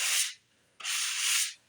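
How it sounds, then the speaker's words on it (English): Hand sanding on a 1971 Gibson Les Paul Deluxe guitar being converted to 1957-58 Goldtop specs: two close, raspy abrasive strokes, a short one then a longer one, separated by a brief pause. "I'll be sanding with something like this right here."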